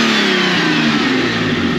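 A car engine that has not been driven for a while revs hard, with a loud, close, continuous roar that holds steady for the whole moment.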